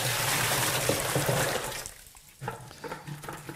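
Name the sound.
pouring water into the bottom of a bin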